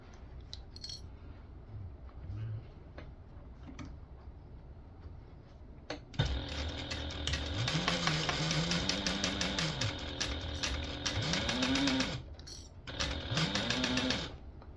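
Sewing machine stitching a seam on a small tote bag, quiet handling at first, then sustained fast mechanical running in long bursts with brief pauses, close and loud.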